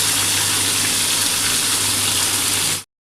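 Bhola fish pieces sizzle loudly in hot oil, a dense, steady frying hiss that carries on without a break and then stops abruptly near the end, with no talking.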